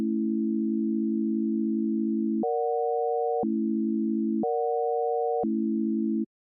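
SuperCollider synth tone switched on and off by an LFO noise gate, alternating between a steady lower hum and a brighter higher chord-like tone in even one-second blocks, loud, clean and alone.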